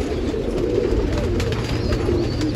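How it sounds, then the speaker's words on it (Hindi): Kalpat pigeons on a rooftop in Nashik, Maharashtra, giving a low, steady cooing that continues throughout, close and moderately loud over a constant background hum. "ये कलपट कबूतर, कलसीरे कलपट बोलते हैं इनको"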